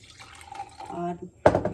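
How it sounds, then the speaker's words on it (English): Water poured into a mixer grinder jar holding red tomato chutney and spices, a brief close splash at the very end following a stretch of talking. "I'll add a little bit of water in the"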